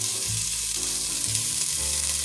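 Chopped onion sautéing in hot olive oil in a pot, with a steady close sizzle and frying hiss running continuously, some low clatter underneath, no voices.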